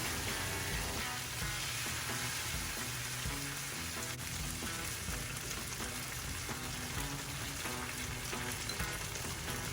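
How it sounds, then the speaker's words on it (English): Rava dosa batter sizzles steadily on a hot oiled tawa over a medium flame, a dense, even crackle that stays close and unbroken from start to finish. "Brush the oil, then add rava dosa batter."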